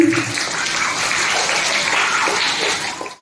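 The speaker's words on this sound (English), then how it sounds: "Clap, my dear children," Pre-primary children clapping at a principal's farewell programme: steady, fairly loud applause filling a few seconds, with a hissing, washy texture and no clear talk.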